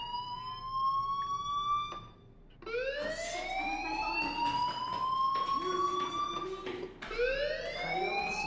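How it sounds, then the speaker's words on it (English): Fire alarm in the video game Life is Strange: Chrysalis, a loud wailing tone that sweeps upward again and again in rising cycles, steady and close with no talking. "Hey, do you hear that fire alarm?"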